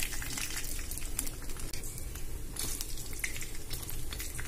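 Peanuts, chana dal, urad dal and mustard seeds fry in hot oil in a pan, giving a steady close sizzle dotted with sharp crackles and pops, plus occasional stirring scrapes.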